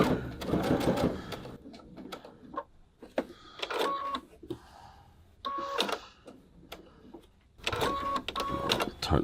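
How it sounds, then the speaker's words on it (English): A sewing machine stitches through the pocket seams of a bag lining in several bursts of rapid mechanical chatter separated by brief pauses, fairly close and clear. "So I'm stitching through those 2 seams that we pulled the pocket through."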